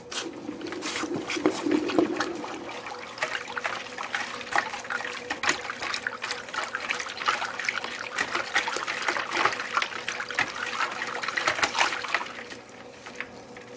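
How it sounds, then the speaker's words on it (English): Hot wrought iron test piece quenched in cold water at a forge, a steady hiss and trickling sizzle running continuously for about twelve seconds before easing off. "I got a test piece in the fire. I'm gonna quench it."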